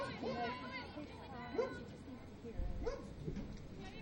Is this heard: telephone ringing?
no